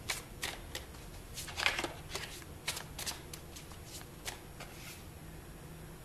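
Tarot cards being shuffled by hand, a run of crisp riffling bursts and soft card slaps at an irregular pace, close and fairly quiet with no talking.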